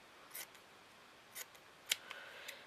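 Scissors snip through a strip of craft material for a shabby chic fabric flower, several short crisp cuts spaced apart, one sharper and louder than the rest, close and clear in a quiet room.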